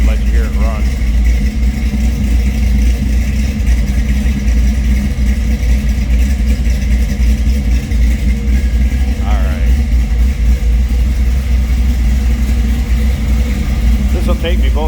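A 1953 Chevrolet 210 with a 4-barrel carburetor runs steadily nearby, a low continuous idle with a few slight rises in pitch, while a person talks over it.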